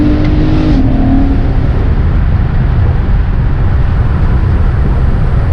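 Sixth-generation Chevrolet Camaro under hard acceleration, a loud, continuous engine roar from close by with a brief tonal change early on as a gear shift comes through, no talk.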